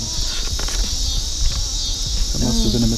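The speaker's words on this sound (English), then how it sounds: "That must have been a mosquito." A thin, high insect whine hovers steadily close by, with faint low rustles and a soft voice murmuring near the end.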